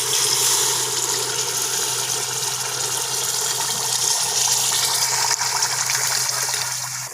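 About 1.5 kilograms of yakhni stock mixed with water is poured into a large pot of spiced rice for Peshawari chana mewa pulao, a loud, continuous rushing gush of liquid throughout.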